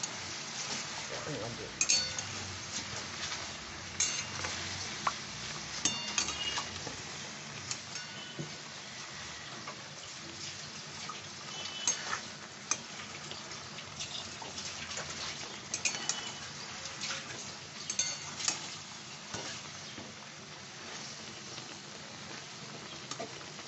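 Onion paste fries in a pan for a chicken reshmi curry while a utensil stirs it. Scattered clinks and scrapes sound over a soft, steady sizzle at low volume throughout.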